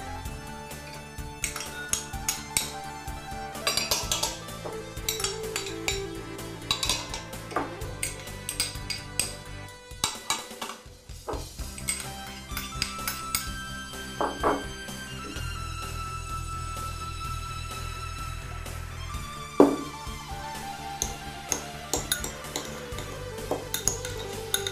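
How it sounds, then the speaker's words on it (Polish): Chicken stuffing ingredients with apricots, cranberries and ginger being stirred together in a bowl, with steady clinks of a utensil against the dish and scraping over a low hum, no talking. "Wszystkie składniki naszego nadzienia przemieszam i dodam kilka kropel"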